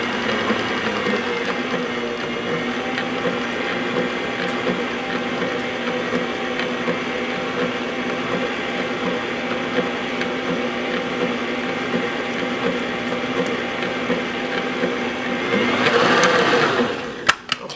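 A stand mixer with a paddle beats flour into pound cake batter, a steady mechanical whirring hum with rhythmic clicking, close and continuous, briefly louder near the end.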